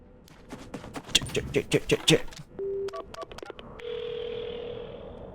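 A string of short electronic beeps as numbers are dialed on a phone-box phone in the video game Paranormasight, then steady ringing tones; a voice is heard briefly near the start.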